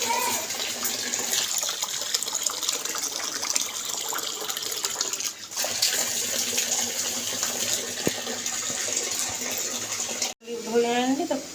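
Steady running water splashes over a pot being washed in a home kitchen, a continuous gushing wash with a brief break near the end, while a person talks over it.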